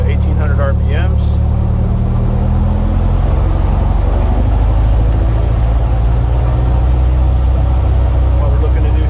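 A Super Decathlon aircraft engine runs up to 1,800 RPM in a loud, steady, close drone with a strong low rumble and a brief tonal rise early on.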